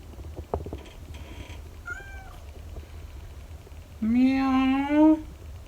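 A barn cat meows nearby, giving a short chirp and then a longer drawn-out meow in a quiet outdoor setting, with a faint thump early on.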